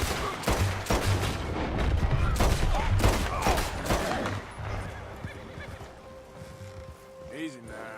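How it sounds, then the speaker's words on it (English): Gunfire in the Western video game Red Dead Redemption 2, a dense fusillade of rapid overlapping shots for several seconds that thins out toward the end, with voices and game sounds mixed in. "Shoot that bastard already."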